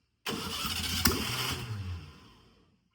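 A 1300cc engine in a 1963 VW Beetle, running with no exhaust, cranks and catches, roaring loudly to life with a rough, rumbling idle that then slowly fades down.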